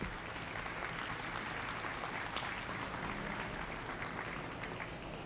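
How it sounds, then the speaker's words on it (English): Steady, dense applause fills a 4-H/FFA dairy cattle showmanship ring, honoring six 8-year-old first-year showmen; the clapping holds at an even level throughout with no pauses. "Give these 6 kids a big round of applause for their first year showing."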